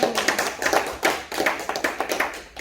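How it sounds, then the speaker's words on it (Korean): A church congregation claps together in a steady, lively rhythm, many hands close by producing sharp repeated smacks with no talking over them. "박수 한번 쳐요."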